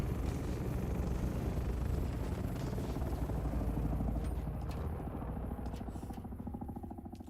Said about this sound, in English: It just seems to make more sense to put the thrusters on.